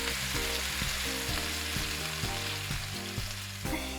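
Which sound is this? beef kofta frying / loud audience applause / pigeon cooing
beef kofta frying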